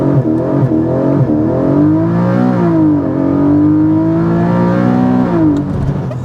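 A 2024 Porsche 718 Boxster GTS 4.0 launching and accelerating hard, loud close engine tone climbing in pitch through gears with brief dips at shifts, then a sustained high rising roar.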